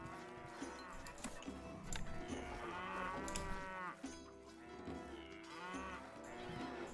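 Several cows mooing in the medieval castle-building video game Stronghold, long drawn-out lows overlapping one after another at moderate volume with no talk.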